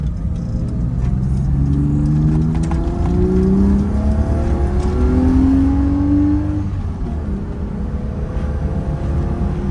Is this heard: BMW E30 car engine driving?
yes